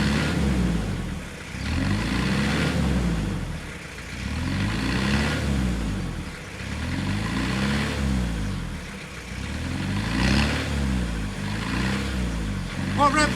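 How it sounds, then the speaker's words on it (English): Engine of a 1993 Vauxhall Carlton being revved repeatedly in rising and falling swells, close and loud, with people talking over it. "Right, rev it up a minute."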